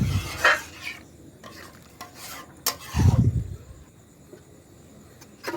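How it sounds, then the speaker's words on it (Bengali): Shukto, a Bengali vegetable curry with milk added, stirred in a pan: close, uneven scraping and clinking strokes of a spoon against the pan over a faint simmer, with no talking. "পরিমাণ মতো দুধ দিয়ে আমি এটিকে ভালো করে নাড়িয়ে দিলাম।"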